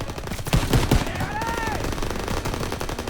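Gunfire in the World War II shooter Call of Duty WWII, a quick burst of close, loud shots early on, then a sustained battle din with a rising and falling whine over it.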